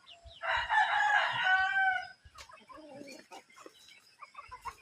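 A rooster crows loudly up close, followed by softer clucking and scattered chicken sounds nearby.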